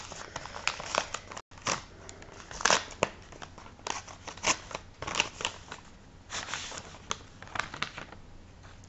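Paper crinkling and tearing as a Christmas card envelope is opened, with soft close rustles, snips and crackles continuing steadily in a quiet room.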